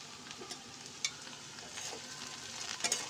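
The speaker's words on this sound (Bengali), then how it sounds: "আবারও কিছুক্ষণের জন্য ভেজে নেব।" Okra and potatoes frying in a pan, a soft steady sizzle with faint stirring scrapes and a few light clinks, close by and fairly quiet with no voices.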